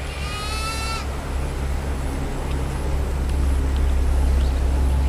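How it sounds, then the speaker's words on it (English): A goat on a farm gives one loud, wavering bleat at the start, followed by a steady rumbling outdoor background of the herd milling about in an enclosure. "there's a lot of goats."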